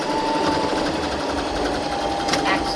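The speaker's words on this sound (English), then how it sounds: "And then I sew back down to secure this." A sewing machine stitches back down along the edge of a fabric face mask, its needle running in a fast, even mechanical whir, close and steady throughout.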